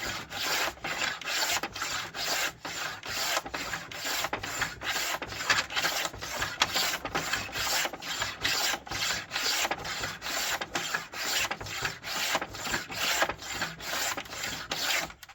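A hand plane shaves a wooden war arrow shaft in quick, regular rasping strokes, dozens of close, evenly spaced scrapes repeating steadily without talk.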